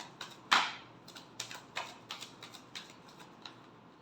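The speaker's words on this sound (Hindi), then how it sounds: "Last shuffle." Tarot cards being given a last shuffle make a quick run of crisp, irregular clicks and snaps, with one sharper slap early on. The sound is close and fairly quiet, with no voices.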